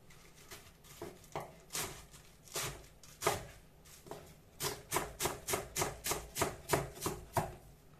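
A knife chops through crisp Chinese cabbage on a board, first in uneven strokes, then in a quick steady rhythm of about a dozen cuts.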